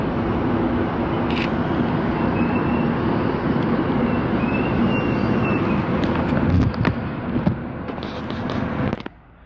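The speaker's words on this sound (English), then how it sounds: "Endeavour set N3 now departing off platform number 2 for a Mossvale service." Endeavour train set N3 pulling away from a station platform on a service to Moss Vale, a loud steady rumble of engine and wheels that holds throughout, with no voices.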